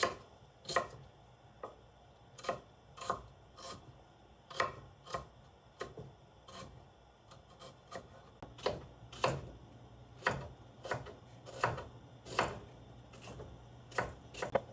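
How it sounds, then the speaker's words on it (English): A knife slices onion into slivers on a cutting board, with sharp, evenly spaced chops repeating steadily at close range and no talking. "I'm just going to cut it. Cut it like that. And also into slivers."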